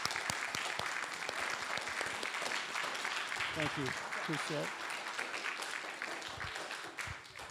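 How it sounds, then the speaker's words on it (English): Congregation at a Vespers service gives a round of steady, fairly dense applause, while someone speaks briefly in the middle, offering thanks over the clapping. "let's give them a round of applause."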